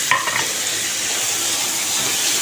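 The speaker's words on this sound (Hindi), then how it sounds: "इसको करेंगे फ्राई अच्छी तरह से" Minced meat (keema) frying in a pan, a steady, loud sizzle throughout, with a brief scrape of stirring near the start.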